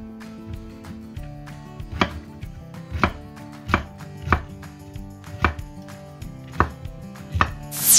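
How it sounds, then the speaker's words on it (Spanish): A knife chops mushrooms on a cutting board, with about eight sharp, evenly spaced strikes sounding close and clear against a faint steady background. "Troceo las setas."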